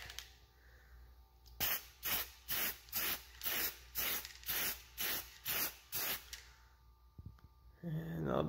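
An aerosol can of Plasti Dip sprays a coat onto a Chevy bowtie car emblem in about ten short, even hissing bursts at a steady rhythm, close to the mic, followed by brief handling noise.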